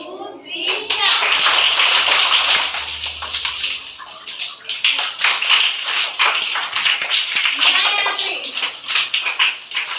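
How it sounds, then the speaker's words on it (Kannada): Schoolchildren in a classroom doing a rhythmic group clap routine, loud, busy clapping and slapping with children's voices chanting and shouting over it throughout. "ನಲಿ ಕಲಿ ಚಪ್ಪಾಳೆ ಸ್ಟಾರ್ಟ್ ಮಾಡಬೇಕು."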